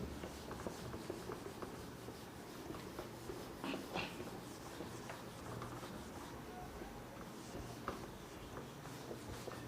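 Chalk or marker scratching out a chemistry formula on a classroom board, faint and intermittent. Soft strokes and occasional sharper taps over quiet room tone.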